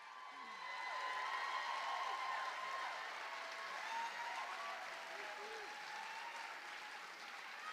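An audience fills a school district teacher-honors ceremony with sustained applause, dense clapping that holds steady throughout, mixed with faint cheers.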